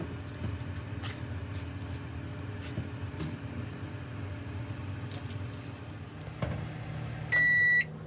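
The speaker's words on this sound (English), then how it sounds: "Okay, so the timer's done." A kitchen timer signals that focaccia baking is done with a short burst of loud, rapid electronic beeps, heard near the end over steady kitchen hum.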